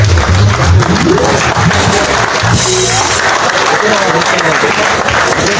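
Audience applause at a vessel commissioning ceremony at the Mesurado Pier in Liberia, a broadband wash of clapping that runs steadily throughout, mixed with voices and some tonal sound early on.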